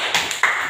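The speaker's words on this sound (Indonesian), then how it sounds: "Kita semua tepuk tangan dulu." A class of pupils clapping their hands together in a classroom: a short burst of sharp, close claps in quick uneven bursts, with no voices.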